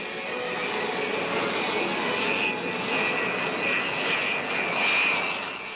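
Jet engines of a Boeing B-47 Stratojet run at a steady idle, a broad, continuous roar with a high whine riding on top. The roar swells slightly near the end and carries no voices.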